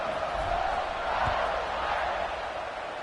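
Stadium crowd noise at kickoff in the college football video game NCAA 26, with a Notre Dame game in progress: a steady, broad roar of fans holding at an even level throughout.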